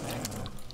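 Dog from the video game S.T.A.L.K.E.R. Call of Pripyat, a short canine bark or yelp rising over a continuous game background, with a brighter burst near the end.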